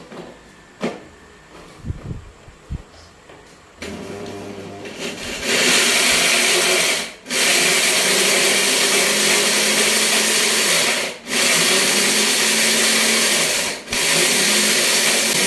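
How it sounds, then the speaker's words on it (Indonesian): A blender starts up and grinds dried tempeh loudly, a steady high whir with brief dips where the motor pauses before roaring back, after some faint handling noises. "kita haluskan atau kita hancurkan dengan pakai blender"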